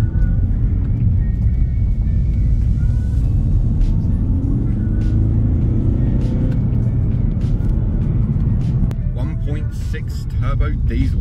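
Audi A3 S-line turbo diesel driving on the road, a steady loud low engine and road rumble from inside the car that continues throughout with no break.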